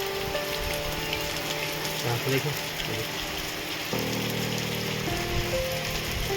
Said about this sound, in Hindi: देखिए कितनी तेज़ गति से बारिश आ रही है